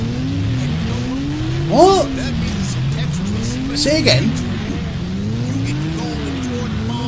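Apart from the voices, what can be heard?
loud car engines and tire squeal in video game Rage 2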